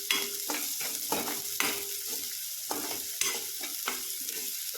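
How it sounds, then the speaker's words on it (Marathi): Garlic and onion sizzle in a hot pan for eggplant bharit, a steady frying hiss broken by repeated scraping stirs of a spoon, close up and without speech. "लसूण टाकते छान भाजून घेऊ आपण"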